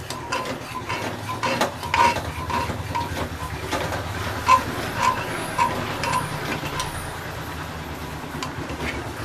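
A spoon stirs moong dal with turmeric in a pan, giving light scraping and clinking against the metal over a low steady background hum, continuous and quiet for about nine seconds.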